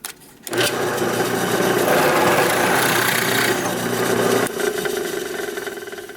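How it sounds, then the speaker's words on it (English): A drill bores a 3/8 inch countersink into wood for a 1/4-inch Allen bolt head, giving a loud, steady grinding whir for about four seconds before winding down. "I'm just going to use a 3/8 inch bit so that I can countersink the head here"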